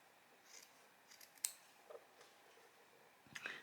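Scissors snip through fabric while cutting a small piece for a fabric blackbird picture: a few short, quiet, close snips spaced apart, with no talking.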